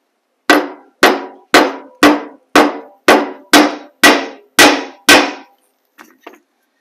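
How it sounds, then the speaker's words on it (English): Ten sharp, evenly spaced hammer strikes ring out on a bent motorcycle brake-lever washer held against a vise while it is flattened. Each blow is loud and close with a short metallic decay, followed by two faint light taps. "I'm really just going to go ahead and flatten it with a hammer."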